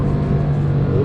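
A Porsche 911 Carrera of the 991 Mk2 generation, turbocharged, accelerating hard in normal mode as it pushes into understeer. A dense, steady engine drone rumbles up close throughout.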